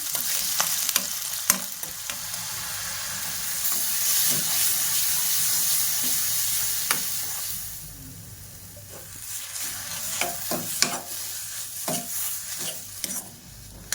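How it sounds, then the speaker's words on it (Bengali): Onion frying in hot oil in a wok, a strong hissing sizzle with repeated sharp stirring scrapes and clacks, the sizzle easing partway through while the stirring continues. "তেল গরম হয়ে গেছে এবার আমি পেঁয়াজ দিয়ে দিচ্ছি"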